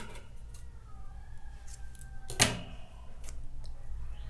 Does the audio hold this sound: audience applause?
no